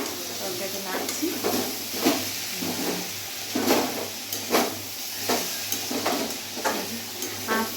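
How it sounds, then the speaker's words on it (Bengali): A vegetable curry is stirred in a pan, the spoon scraping and clattering in repeated strokes over a steady sizzle, with someone talking throughout. "তো আমি এই যে তরকারিটা নাড়ছি।"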